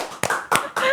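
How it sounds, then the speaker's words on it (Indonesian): A few sharp, separate claps from a studio audience for a stand-up comedian, spaced roughly a quarter second apart, with a faint tonal sound between them. "Mari beri tepuk tangan buat Bang Bintang BT."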